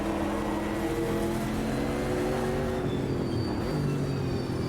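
Race cars, including a McLaren and Ginettas, running side by side in the Automobilista 2 racing game, producing a continuous loud engine drone with shifting pitch as they race close together.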